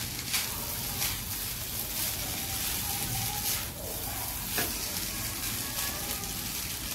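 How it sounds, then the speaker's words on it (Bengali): Rice frying and being stirred in a pan, a steady close sizzle with soft scraping and stirring noises running throughout at an even level. "এখন ভাতগুলো ভালো করে ভাজি নাও"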